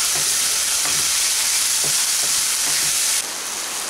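Chicken frying with soy sauce and tomato sauce sizzles loudly and continuously in a pan, with soft scraping strokes of a spatula stirring through it at an uneven rhythm.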